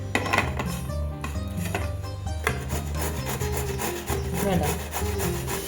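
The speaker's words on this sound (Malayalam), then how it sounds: "അപ്പോൾ ഗ്രേറ്റർ വെച്ച് നമുക്ക് ഗ്രേറ്റ് ചെയ്യാം." A fresh mango is grated by hand on a kitchen grater, giving repeated rough rasping strokes in a steady rhythm, with occasional metallic knocks and a single brief spoken word.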